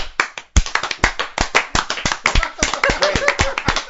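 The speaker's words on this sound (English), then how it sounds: "Wait, who are you guys clapping for?" An audience claps steadily, many hands producing a dense, close patter of sharp claps that continues without a break.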